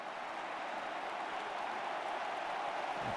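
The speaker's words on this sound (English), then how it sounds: "A big round of applause from Alex Del Piero" A football crowd of home fans at a Juventus v AC Milan Italian Cup semi-final applauds Alex Del Piero as he comes off, a steady, distant wash of clapping and stadium noise.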